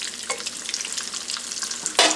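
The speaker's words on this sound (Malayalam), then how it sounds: "ഇനി ബാക്കിയുള്ളതും ഫ്രൈ ചെയ്തെടുക്കാം." Vegetable snack pieces frying in hot oil give a steady, close crackling sizzle throughout, with a brief louder burst of spitting near the end, as for a quick iftar snack.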